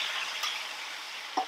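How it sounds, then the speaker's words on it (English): Zucchini, yellow squash and green bell pepper sizzle on a hot grill, a steady hissing fry throughout with a brief louder crackle near the end; no talking. "May the sizzle be with you."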